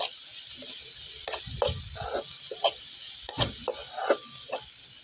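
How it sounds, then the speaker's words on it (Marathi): Crushed peanuts stirred into a pea chutney cooking in a pan over a wood fire, a steady sizzle with irregular scraping and stirring strokes, close and fairly quiet, no talk. "आता थोडं शेंगदाण्याचं कूट टाकून मध्ये मिक्स करू."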